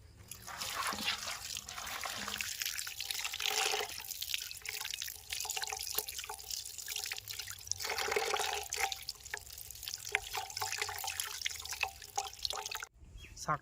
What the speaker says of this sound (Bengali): বন্ধু এবার মাছটা ধুয়ে নিলাম।